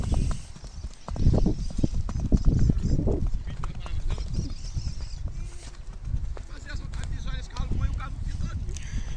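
A horse being broken in during training clip-clops with steady hoofbeats on the ground, close by, while someone talks over the rhythmic thuds.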